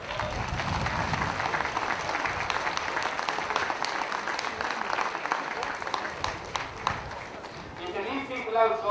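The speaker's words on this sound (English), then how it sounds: "so a round of applause for all of them." Crowd of supporters applauding after a county senior Gaelic football final, sustained clapping outdoors throughout, with a voice starting to speak near the end.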